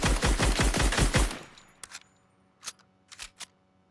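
Rapid automatic gunfire from a weapon in Fortnite rings out as a loud, close burst for about a second and a half, then trails into a few quieter clicks and mechanical handling sounds.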